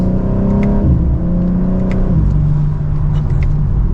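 A BMW M4 Competition accelerates on a test drive, its engine note rising loud and close through the gears with two audible shift drops, a continuous throaty roar throughout.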